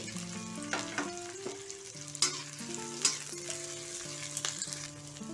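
Cauliflower florets, a small onion and green chilies sizzle in hot oil with crackling spatters and several sharp spoon clicks against the pan, over a soft melodic tone in the background.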